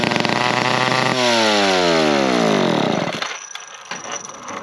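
A McCulloch chainsaw engine stuck at high revs, a loud, steady, close buzzing whine that holds, drops in pitch as it winds down and then falls to a rough idle.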